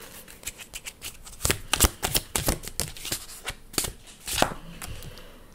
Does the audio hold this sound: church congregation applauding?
no